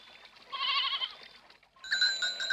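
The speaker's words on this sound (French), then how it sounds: "Tu parles d'un troupeau de chèvres." A herd of goats bleats in a cartoon mountain pasture, several loud wavering calls overlapping, then a higher, steadier bleat after a brief pause.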